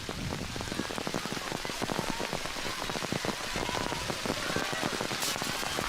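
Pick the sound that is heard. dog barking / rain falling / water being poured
rain falling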